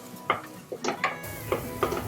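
Garlic being stirred as it fries in a pan for mutton masala, with a few distinct scraping clinks of a spoon against the pan over a faint sizzle, close and moderately loud.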